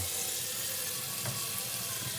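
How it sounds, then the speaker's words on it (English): Tap water runs into a cooking pot in a kitchen, a steady, fairly faint rushing hiss with no talk over it. "get some water in here"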